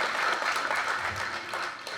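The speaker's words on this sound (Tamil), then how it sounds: "பாக்யராஜ் சாருக்கு பலத்த கரகோஷம் கொடுங்க சார்" Dense, steady applause from an audience at a film trailer launch honouring Bhagyaraj, a continuous wash of clapping that holds evenly for two seconds with no talk over it.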